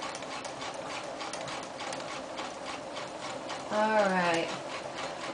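A sewing machine runs a zigzag stitch over the elastic casing of a sleeve hem, a steady rapid mechanical pulse throughout, with a voice briefly speaking partway through.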